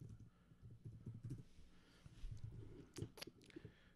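Quick bursts of keystrokes on a computer keyboard, close and fairly quiet, with irregular rhythm and a few sharper clicks near the end, no talking.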